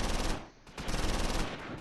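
Battlefield gunfire in the World War II game Close Combat IV near Dasburg and Wiltz: a dense, loud rattle of machine-gun bursts with a brief lull midway before the firing resumes.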